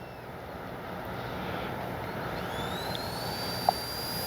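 An E-flite 64mm Viper RC jet idles on the ground before takeoff with a steady, moderate broadband whoosh and a faint high whine, plus one brief tick near the end and no voices.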